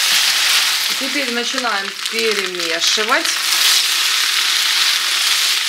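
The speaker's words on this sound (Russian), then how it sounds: "первые 2 минуты мы не трогаем, чтобы внизу сразу картошечка поджарилась" Potatoes frying with pork fat in a pan give a steady, close, bright sizzle throughout, with someone speaking briefly over it early on.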